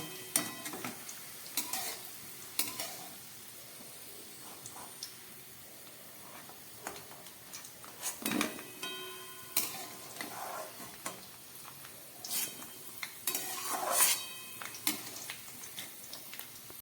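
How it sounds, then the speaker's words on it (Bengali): Potato pieces fry in hot oil for an aloo chicken momo dish, giving a soft, continuous sizzle with scattered crackles and light pops, fairly quiet and without any voices. "আলুগুলোকে আমি ভেজে নিলাম"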